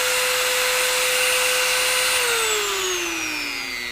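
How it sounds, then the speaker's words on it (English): A power drill boring holes in a leather axe sheath gives off a loud, steady high whine that drops in pitch and fades as the motor winds down near the end. "So I'm going to go ahead and finish drilling both sides"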